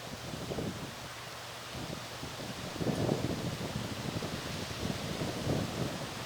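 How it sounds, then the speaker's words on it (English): Gusty wind buffets the microphone in low, rumbling surges that swell and fade, with no voices present. "it's real windy here"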